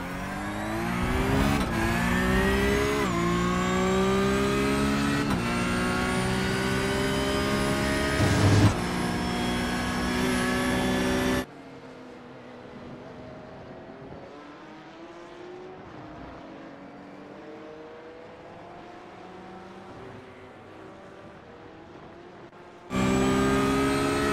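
A Porsche Cup race car at Hockenheim roars loudly nearby, its engine pitch sweeping through gear changes. The sound then drops to a quieter, muffled engine drone before the full roar returns near the end.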